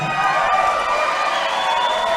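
A big arena crowd in Logan, Queensland cheers and roars steadily before a boxing bout, a dense continuous wash of voices with whistles and shouts threaded through.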